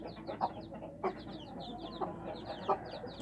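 Newly hatched baby chicks, about fourteen of them, cheeping in a dense high chorus with soft clucks mixed in, close and continuous with a few louder peeps, no talking.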